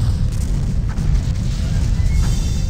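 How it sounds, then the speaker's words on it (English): An enemy starship explodes in a space battle in Star Trek Bridge Commander, heard as a steady deep rumbling roar that fills the whole moment without a sharp onset, with faint crackles above it. "Simulated enemy ship has been destroyed."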